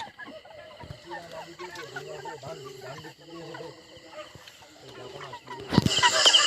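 A flock of 33-day-old broiler chickens, averaging about 2280 grams, is carried off for loading onto a vehicle. Continuous clucking and squawking run throughout, ending in a sudden loud, harsh burst near the end.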